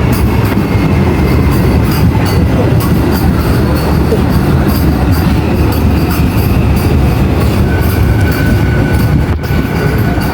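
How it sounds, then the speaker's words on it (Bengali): An AC train rolls into Thakurnagar station, a loud, close, continuous rumble and clatter of wheels on rails with faint squealing throughout. "এখন এসি ট্রেন উঠবো"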